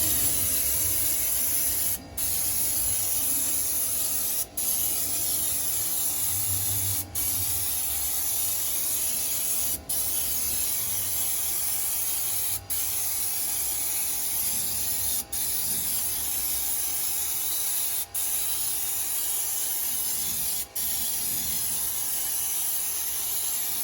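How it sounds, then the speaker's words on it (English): Spray gun applying bedliner coating inside the bed of a 2022 RAM 2500 pickup truck, a steady loud continuous hiss held for the whole stretch, broken only by a few very brief pauses at regular intervals. "We'll be spraying right now,"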